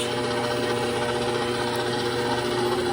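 A stand mixer kneads whole wheat bread dough at a slightly raised speed, its motor giving a steady, close, even whirring drone with a faint rubbing texture throughout.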